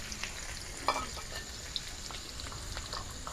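Two medium onions frying in white oil in a village kitchen pan, a steady soft sizzle with light crackle and a brief stir partway through, close and alone with no talk.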